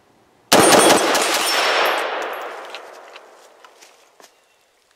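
A rifle firing a rapid string of about five shots at an AR500 steel plate target outdoors, the loud cracks blurring together and then ringing out into a long fading decay, with a few faint knocks afterward.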